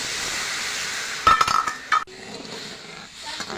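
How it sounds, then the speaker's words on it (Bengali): Sugar and half a bowl of water being stirred into syrup in a pan for kati goja, giving soft scraping and a few metallic clinks from the utensil against the pan, with no talking. "আমি চিনিটা নাড়াচাড়া করে একটা শিরা করে নেব"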